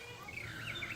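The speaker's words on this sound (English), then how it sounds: "Big birdies. Look kind of like finches, don't they?" Small finch-like birds at a zoo chirp in quick high tweets, faint and somewhat distant over a steady background hush, with no one speaking.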